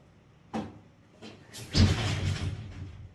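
Repeated attempts to slam a door in an airtight room: a light knock, then a faint bump, then a heavier cushioned push with a muffled whoosh and dull thud instead of a crisp slam.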